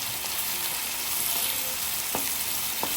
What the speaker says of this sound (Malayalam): പിന്നെ തക്കാളിയും എല്ലാം കൂടി നല്ലോണം ഒന്ന് മിക്സാക്കി കൊടുക്കാം.